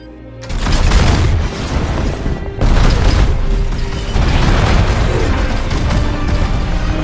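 Helicarriers in a film fire on each other amid loud, sustained rumbling explosions and heavy booms, with a brief drop near the start before the barrage resumes.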